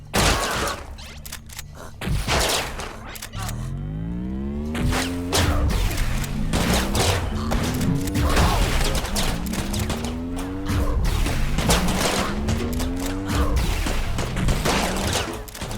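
Rapid, repeated gunfire in the sci-fi shooter game Utopia 9, with bullets ricocheting off walls, firing in loud, dense volleys alongside rising whooshing tones and impacts, continuous throughout with no talking.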